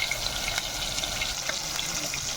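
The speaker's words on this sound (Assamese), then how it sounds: "মাছ ফ্ৰাই কৰি লওঁ, তাৰপৰা আপোনালোকৰ ৰেচিপিটো বনাই আছোঁ" Fish fry in hot oil in a pan for an Assamese fish curry, a steady close crackling sizzle with scattered pops throughout and no talking.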